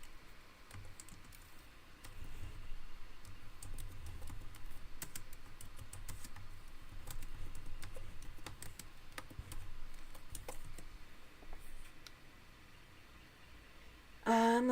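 Fast, light clicking of a computer keyboard, heard fairly close and quiet in a calm room, with bursts of keystrokes that run on and pause, ending in a brief louder scrape.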